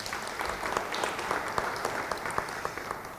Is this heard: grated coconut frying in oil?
no